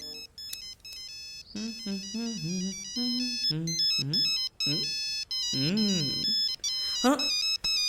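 A melodic electronic ringtone plays continuously, its bright tones stepping up and down in a repeating tune, loud and close.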